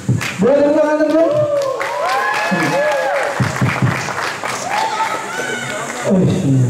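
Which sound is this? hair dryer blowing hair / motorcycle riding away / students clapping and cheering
students clapping and cheering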